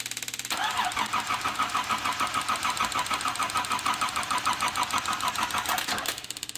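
A 1979 Datsun 280ZX that has sat unused for a long time cranks in a steady, rapid rhythmic churn for several seconds, then catches and settles toward a rough idle, loud and close with no talk.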